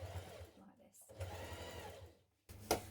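A sewing machine stitches a line down a seam onto a pocket piece, running steadily and fairly quietly for a couple of seconds, then pausing and starting again briefly, while a voice talks over it.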